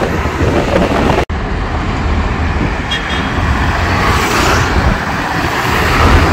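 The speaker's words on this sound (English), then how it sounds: "Lot of traffic." Road traffic in Goa near Porvorim, with a steady roar of passing cars, buses and trucks and a brief horn toot, heard close and loud from a rider's position with no talk.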